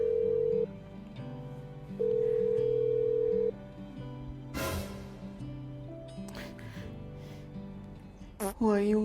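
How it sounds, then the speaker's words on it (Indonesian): A telephone rings in steady bursts, loud tones repeating with pauses between them, with background music playing throughout and a short sharp vocal sound near the end. "angkat teleponnya."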